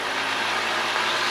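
A light aircraft piston engine runs at 1700 RPM during a run-up, a steady, loud, buzzing drone over the brief moment with no voices.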